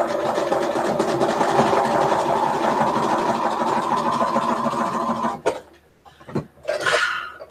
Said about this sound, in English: Can I tell you how nice it is to run the sewing machine?